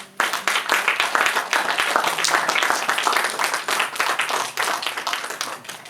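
A wedding congregation at a religious ceremony bursts into loud, sustained clapping acclaiming Jesus, many hands beating densely and continuously close by after a brief pause at the start.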